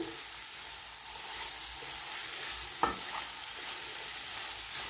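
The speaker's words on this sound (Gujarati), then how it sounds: "અહીંયા આપણે બે મિનિટ માટે પર્વને એકદમ સરસ તેલમાં થવા દેવાના છે" Pointed gourd (parval) cooks in oil for a Gujarati shaak, a faint, even frying hiss with one sharp clink of a utensil near the middle and no voices.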